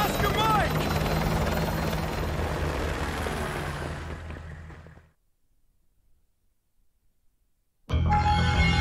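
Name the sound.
helicopter in video game Call of Duty Modern Warfare 2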